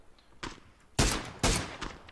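Video game gunfire in a first-person shooter: a faint early shot, then two loud, close bursts of rapid shots about half a second apart, each trailing off, with no talk.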